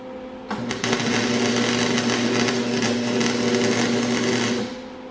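Welding a nut onto a broken bolt during a Ryobi C4618 chainsaw rebuild gives a steady, close buzzing crackle that lasts about four seconds, then cuts off.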